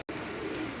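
Fancy pigeons at a Bangladeshi pigeon farm coo in a steady, low murmur that fills nearly a second after a brief silent gap, close and moderately loud with no talking.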